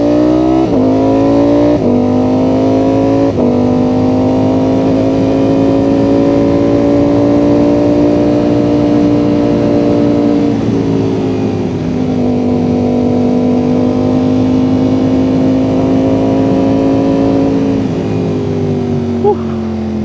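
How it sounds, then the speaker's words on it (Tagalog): A loud motorcycle engine drones steadily close by, its pitch shifting slightly as it revs and settles, running continuously throughout. "kung naririnig yung tunog ng motor pero sobrang lakas."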